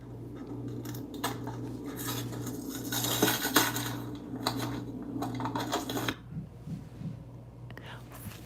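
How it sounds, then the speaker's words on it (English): Dishes and cutlery clattering while being washed in a kitchen, a busy run of clinks, scrapes and knocks close by, rising in the middle and fading out near the end, under faint voices. "Oh my God, he's still washing dishes."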